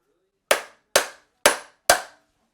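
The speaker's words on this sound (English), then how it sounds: "If I give the axle a little bit of a smack from this side" Four sharp metallic smacks against the axle of a BMW K100 motorcycle, evenly spaced about half a second apart, each ringing briefly before fading, with no talking.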